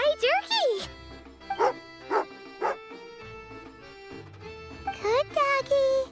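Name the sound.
dog barking in Genshin Impact video game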